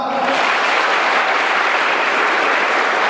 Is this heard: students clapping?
yes